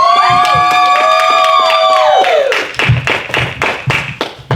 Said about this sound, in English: you're gonna cheer as loud as you can right